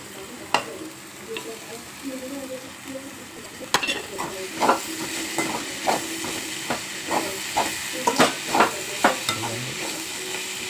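Drumstick (shevga) leaves going into a hot frying pan, giving a steady close sizzle with repeated stirring scrapes and clatters growing busier partway through; no one talks.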